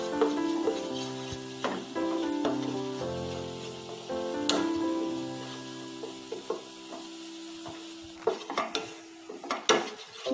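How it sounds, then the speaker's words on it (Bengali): Gram flour (besan), two spoonfuls, dry-roasting in a hot pan, giving a soft steady sizzle with repeated scrapes and clinks of a utensil stirring against the metal, close by with no talk. "বেসনটাকে একটু ভেজে নেব।"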